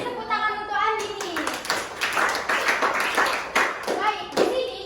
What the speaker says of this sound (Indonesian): Beri tepuk tangan untuk Andini